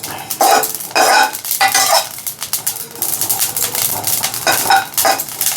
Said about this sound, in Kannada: ಅದು ಅಷ್ಟೇ ಪಟ ಪಟ ಪಟ ಅಂತ ಸಿಡಿಬೇಕು